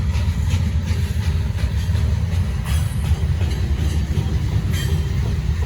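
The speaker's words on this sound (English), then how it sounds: "This train got to be heavy, boy, because they going real slow." A heavy Norfolk Southern freight train rolls past slowly and close by, a loud continuous rumble of wagons with faint rhythmic clatter and occasional high wheel squeal, no voices.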